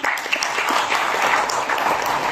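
A crowd at a school cleaners' empowerment ceremony applauds the supervisor team, with dense, steady clapping that carries on evenly through the whole short stretch.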